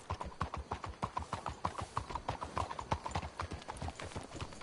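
Steady clip-clop of horse hooves in the video game Red Dead Redemption 2, at a brisk walking rhythm, fairly close, continuing throughout with no talking over it.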